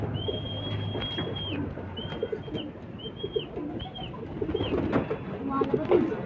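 Racing pigeons coo in repeated soft, short calls over a busy background, while people talk nearby.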